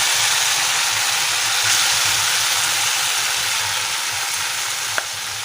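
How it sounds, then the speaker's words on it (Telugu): Ground spice paste with curry leaves fries in a pan for an okra curry, giving an even, unbroken hiss of hot oil up close, with one small clatter near the end and no talking. "మసాలాలు మంచిగా వేయించాలి"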